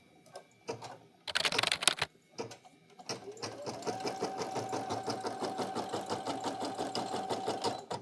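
A Brother PE800 or PE900 embroidery machine stitches a built-in flourish design. A few scattered clicks and a short clatter come first, then a steady, fast rhythmic stitching runs close and even.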